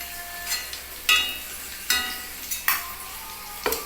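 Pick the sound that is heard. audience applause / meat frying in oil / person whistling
meat frying in oil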